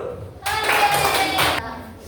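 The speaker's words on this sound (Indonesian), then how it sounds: "Oke, tepuk tangan dulu" Classmates in a classroom clap after a group presentation, a short loud burst of many hands lasting about a second before stopping abruptly.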